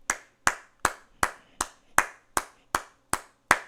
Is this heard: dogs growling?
no